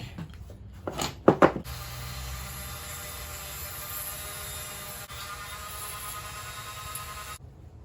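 A drill bores through a wooden catfish lure body: a few sharp knocks as the bit bites in, then a steady faint whirring grind that runs on before stopping abruptly.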